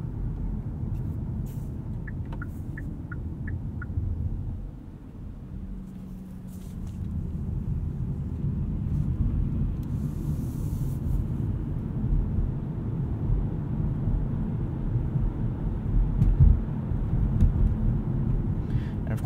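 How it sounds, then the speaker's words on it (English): A 2017 Hyundai Sonata Plug-in Hybrid driving in full electric mode, heard from inside the cabin as a steady low road and tire rumble with a faint whine, quiet and continuous with no engine note. "I'm gonna turn off the heater just so you can hear the car for a little bit in full EV mode"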